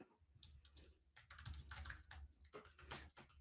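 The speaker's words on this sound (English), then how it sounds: "Sorry about my typing." Rapid, uneven clatter of typing on a computer keyboard, close and fairly quiet, with irregular bursts of keystrokes and short pauses, alone without talk.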